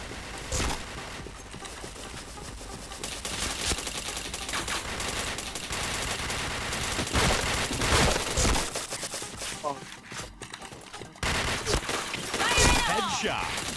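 Rapid automatic gunfire and single shots crackle through a shooter video game match. Dense bursts and impacts run almost continuously while someone talks over the action.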